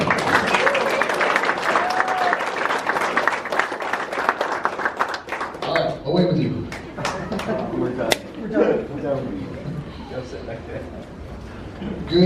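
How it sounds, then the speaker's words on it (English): Audience clapping after a lifter is announced in the 125-plus-kilo class at a Starting Strength lifting meet, dense and steady at first, then thinning into scattered claps with voices talking over it. "All right, everybody clap again."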